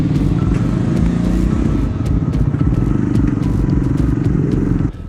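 The Triumph Scrambler 400X motorcycle's 400cc engine runs steadily while riding, a loud, continuous rumbling drone with rattling wind noise that drops off abruptly at the end.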